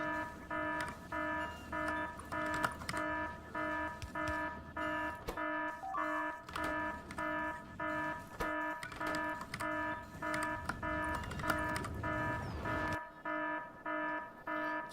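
Repeating electronic alarm beeps in the video game Factorio, a steady pulsing tone pattern sounding continuously throughout, fairly loud over a busy background of factory machinery hum, cutting out near the end.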